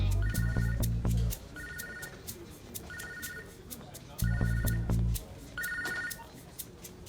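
A telephone rings in repeated double bursts, five bright electronic trills spaced about a second apart, loud and close with a low background hum underneath and no talking over it.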